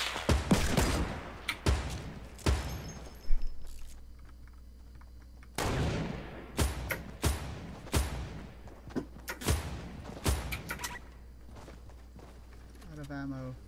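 Bursts of AR rifle fire in a shooter video game, with repeated sharp cracks and short volleys spread across the clip, some loud and close, others quieter, over a low steady background hum.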